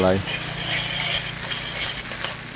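Sambal being sautéed in a pan for smoked and grilled duck breast with pineapple, with a steady sizzle and stirring that runs under a low hum through the short stretch.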